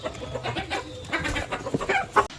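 A small flock of chickens clucking while being fed soaked rotis, with a run of close, uneven clucks and short squawks that grow busier and louder toward the end.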